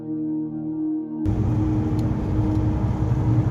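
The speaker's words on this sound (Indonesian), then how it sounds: "Setelah itu, mobil kembali dipacu membelah jalur hijau." A car driving a green mountain road in Tolikara, Papua Pegunungan. Low engine and road rumble starts abruptly after about a second of quieter tonal hum and then continues steadily and close.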